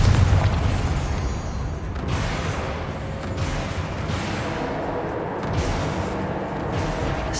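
A Confringo fire spell detonating in the Hogwarts Legacy game, a heavy booming blast followed by a sustained rumbling roar and crackle that slowly fades out.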